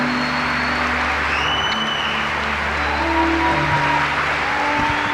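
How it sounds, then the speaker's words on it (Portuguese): A Catholic church congregation applauds in a broad, steady wash of clapping, with a low hum and faint tonal background sounds running beneath it. "Pode aplaudir que é para Deus."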